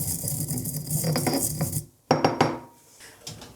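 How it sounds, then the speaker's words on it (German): Fennel and coriander seeds are ground in a mortar, with a close, continuous gritty rubbing and rasping that stops briefly, then returns in a few short scrapes. "Da habe ich einen Mörser, die tue ich einfach noch kurz ein bisschen anmörsern."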